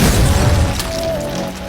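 A bomb explosion, a loud deep boom with rumbling low end that sustains and slowly decays, with a sharp crack partway through, heard alone.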